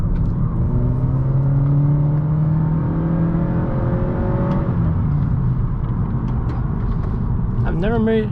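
A car engine revs and pulls through the gears on the winding Tail of the Dragon mountain road from Tennessee to North Carolina. Its rising, falling drone is loud and close and runs steadily throughout, with a brief higher whine near the end.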